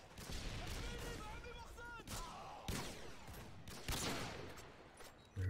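Revolver gunfire in the 2009 Modern Warfare 2 shooter game, several close, sharp shots in quick bursts over game sound effects and background noise, with a player talking throughout.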